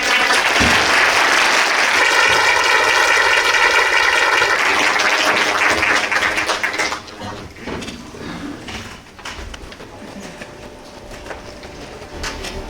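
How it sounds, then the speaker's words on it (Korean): Audience applause welcomes a guest speaker at a university-hosted public forum in a hall, loud and dense for about seven seconds, with a steady tonal hum partway through, then fading to a lower, thinner clatter. "큰 박수로 맞이해 주시기 바랍니다"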